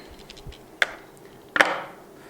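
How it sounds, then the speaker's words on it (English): A pad clamp snaps down onto a drilling jig for a concealed hinge, giving two sharp close clicks a little under a second apart after some faint handling noise. "put the pad clamp down,"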